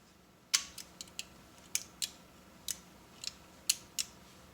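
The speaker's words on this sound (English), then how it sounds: "Take you some vice grips, clamp it down" Vice grips clamp down on a 1978 Furnas compressor pressure switch, giving about a dozen sharp, quiet metallic clicks and snaps spaced irregularly over a faint background hiss.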